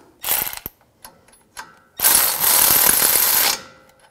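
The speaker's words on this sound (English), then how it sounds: "I'm just going to use a pry bar, just pry down while I tighten up the nut." A ratchet tightens a castle nut on a tie rod end of a 2011-2018 Ram 1500 during a leveling kit install: a few short separate clicking bursts, then a long steady close run of rapid ratcheting, no talk.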